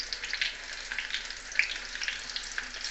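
Onions frying in oil for a curry, giving a bright crackling sizzle with small bursts and pops, close and steady across the short stretch.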